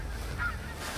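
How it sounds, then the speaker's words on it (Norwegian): A flock of pink-footed geese honks over fields at Skogn in Trøndelag during a goose hunt, thousands of birds in the area. The calls are faint and distant, blurred under steady wind rumble. "Nå er det mye gås ut her, altså."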